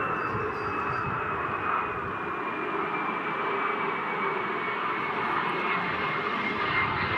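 An F-22 Raptor jet touches down at an air show, its steady, loud roar filling the air with a high whining tone sliding slowly downward over the broad engine rumble.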